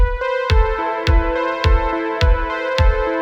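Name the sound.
synthwave backing track without sidechain compression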